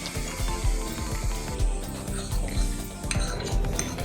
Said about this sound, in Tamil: அல்வா வந்து கடாயில் ஒட்டாமல் பிரிஞ்சு வரணும், அந்த அளவுக்கு நல்லா கலந்துடலாம்.